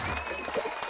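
A crowd claps in a brief, dense burst of applause, steady and fairly loud throughout with no pauses.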